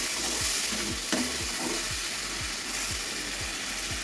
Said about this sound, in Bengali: মশলাগুলো ভালো করে কষিয়ে নিচ্ছি।